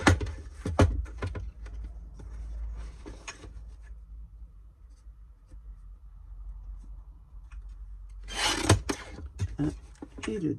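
Old paper from craft blocks being cut for a handmade card: quiet scraping and rasping strokes in short bursts, with a louder rustling cut near the end, close and faint.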